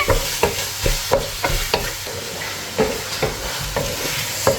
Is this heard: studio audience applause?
no